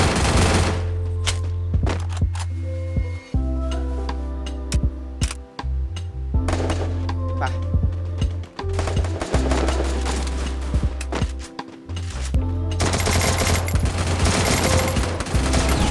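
Rapid automatic gunfire from the Free Fire video game, loud, close bursts rattling in long stretches with brief pauses between volleys, then resuming heavily.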